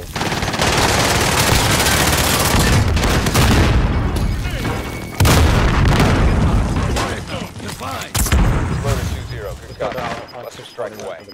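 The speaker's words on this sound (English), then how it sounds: "Friendly precision airstrike inbound." Precision airstrike in Call of Duty: Modern Warfare: dense, loud rolling blasts and rapid gunfire crackle, with sharp booming impacts partway through, as players talk over the chaos.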